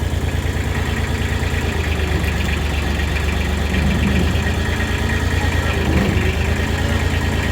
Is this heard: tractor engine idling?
yes